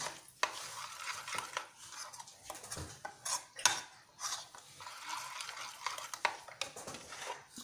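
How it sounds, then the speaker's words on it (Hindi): Spices being stirred into freshly made tomato paste for a fenugreek and spinach curry, with repeated close scraping and clinking of a spoon against a metal pot in uneven bursts, no talking. "अब इसके अंदर मैं सारे मसाले डाल देती हूँ। सारे मसाले यहीं पे हम मिक्स कर लेंगे।"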